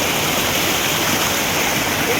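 Hatifulia waterfall in Baleshwar, a steady broadband rush of falling water that fills the clip evenly and loudly with no break.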